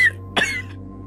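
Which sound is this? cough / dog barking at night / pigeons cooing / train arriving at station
cough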